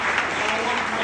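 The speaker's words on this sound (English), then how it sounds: "So please give a round of applause." Sustained applause from a crowd at a tango milonga memorial gathering: a brief, dense, even burst of many hands clapping, fairly loud and continuous.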